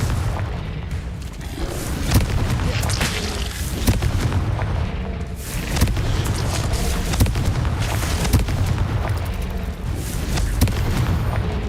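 Fire spell explosions go off in a Hogwarts Legacy battle, a loud, dense run of booms and blasts following one another with little pause throughout.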